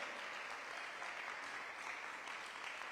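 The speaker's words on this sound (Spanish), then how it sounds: "denle un aplauso fuerte al Espíritu Santo de Dios." A church congregation applauds strongly, a continuous even roar of many hands clapping that stays steady throughout with no voices on top.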